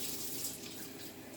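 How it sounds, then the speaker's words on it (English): Water runs steadily into a pot of lentil soup, a soft, continuous splashing stream heard close up and alone for a brief moment. "let's add some more water"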